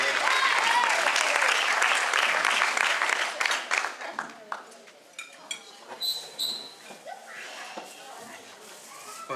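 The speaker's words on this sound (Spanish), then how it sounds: "Un aplauso." An audience at a birthday serenade breaks into loud applause for the birthday girl, which quickly tapers into scattered claps while voices talk underneath.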